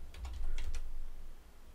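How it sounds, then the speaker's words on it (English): Someone types a command on a computer keyboard, a quick burst of close, light key clicks followed by a steady low hum. "Now we'll use this Perl script to remove all this VDD with exclamatory symbol by simply typing this command Perl,"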